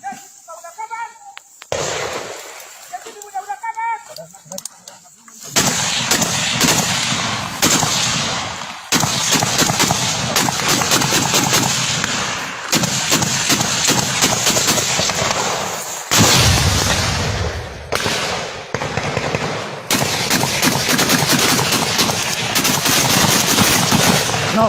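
Rapid bursts of gunfire and launcher blasts crack loudly and repeatedly, densely layered over several seconds near the microphone, with voices shouting briefly before the shooting starts.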